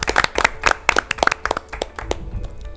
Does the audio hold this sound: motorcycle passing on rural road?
no